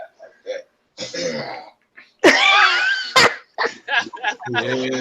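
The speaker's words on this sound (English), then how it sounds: "Oh no, I heard somebody coughing." Someone coughs in several rough, harsh bursts, close to the mic, broken up by short pauses and throat sounds.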